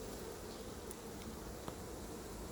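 Honey bees buzzing steadily inside an open hive during an August hive check, a dense, continuous close drone with a brief sharper tick partway through.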